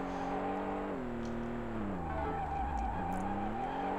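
A car drifts in the PS1 racing game Vanishing Point, with a loud, steady engine whine bending in pitch and gritty tire-skid noise blended in throughout.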